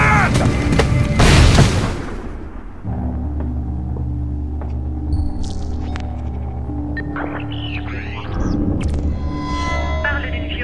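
A grenade blast in the stealth action game Splinter Cell Blacklist: a loud, close burst with a heavy booming rumble that gives way to a sustained low hum and scattered electronic tones.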